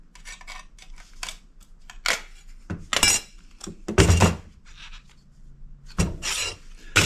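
Tiny screws are being unscrewed inside a POS machine, giving close, intermittent scraping and rasping bursts with small clicks and clunks in an irregular rhythm.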